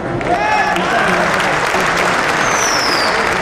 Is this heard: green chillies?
no